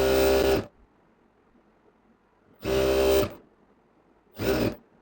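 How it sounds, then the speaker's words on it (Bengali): A sewing machine stitches a round garment in three loud bursts of fast whirring with quiet pauses between them, the last burst shorter, heard close and without talking. "সেলাই দিচ্ছে, একে সোজা নিচে চলে যাব একবারে।"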